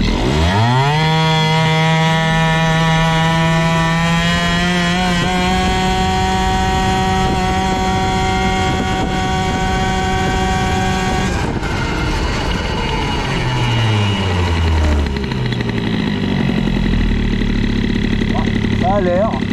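A two-stroke CPI moped engine fitted with an Airsal 70 kit revs up into a loud buzzing whine, holds steady, then drops back toward idle before picking up again.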